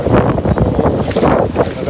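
Strong wind buffets the microphone at a seaside fishing spot on an island, a loud, continuous roar with gusting surges and no clear talk.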